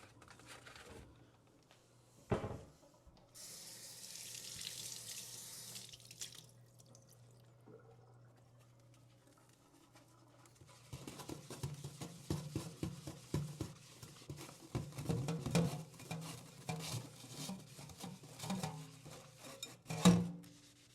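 A bowl being washed under a running kitchen tap before making a salmon salad, with steady water flow, splashing and patter, and occasional clinks of the bowl, building louder in the second half.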